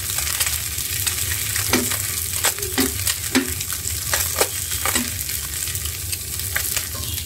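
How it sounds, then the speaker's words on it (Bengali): Mustard fish frying crisp in a pan, a steady sizzle broken by repeated clinks and scrapes of a utensil against the pan. "সরষা মাছ মচমচে করে ভেজে নিলে খেতে খুবই মজা হয়"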